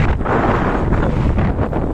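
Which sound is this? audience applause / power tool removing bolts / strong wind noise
strong wind noise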